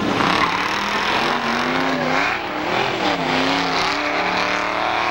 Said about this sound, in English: Through the corners they go, and Jepson way up against the wall.